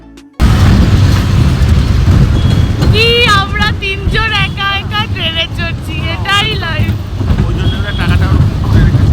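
A small fairground train ride rumbles along at the Krishna Sayar festival fair in Bardhaman, with a loud, continuous low roar and wind buffeting the microphone, while voices chatter over it.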